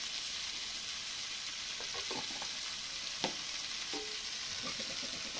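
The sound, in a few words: stirring chicken in oil while frying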